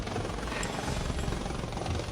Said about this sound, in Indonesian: Naik helikopter ke sekolah.